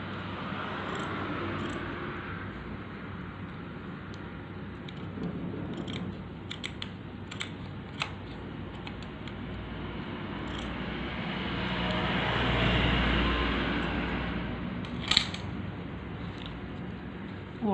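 Scissors cut material to length outdoors, a few sharp snips scattered among soft rustling over a low, steady background rumble. The snips are fairly faint and there is no talking.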